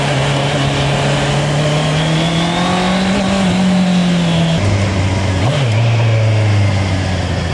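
A Honda CBR650R motorcycle fitted with an original Honda quickshifter pulls away on a road test, its four-cylinder engine holding a loud, steady drone that steps down in pitch at a quick gear change, with heavy wind rush throughout.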